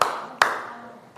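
Group hand clapping in a classroom ice-breaking game: one sharp unison clap, a second clap about half a second later, then a faint third, with room echo trailing each.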